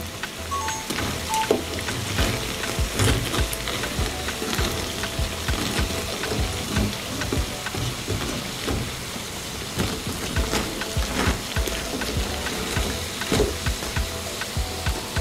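Tubani frying in hot oil until crispy, a steady close sizzle with dense crackling and popping that holds at an even level throughout, no voices.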